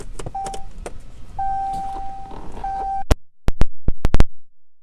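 Power windows on a 2014 Jeep Cherokee Latitude whirring in a few short motor runs with faint electronic beeps, followed by several sharp clicks and thumps in quiet surroundings.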